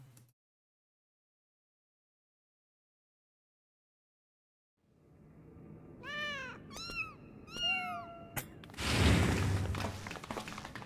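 Cats meow in Final Fantasy XIV: Dawntrail after a stretch of silence, with three or four clear, close meows over a soft rumbling bed, followed by a burst of thumping noise.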